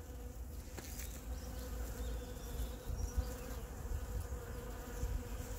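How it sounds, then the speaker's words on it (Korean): Honeybees swarm a flowering boxwood shrub in early spring, a steady dense buzzing drone that holds at even loudness throughout with no talk. "실제로는 퍽 속에 꿀벌들이요"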